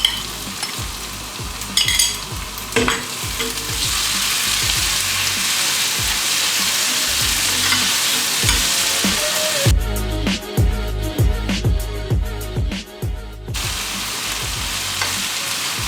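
Chopped onions in hot oil get a pour of tomato puree, giving a steady loud sizzle with clattering stirring and scraping throughout, the sizzle spiking sharply as the wet puree hits the pan.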